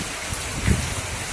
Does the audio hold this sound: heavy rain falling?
yes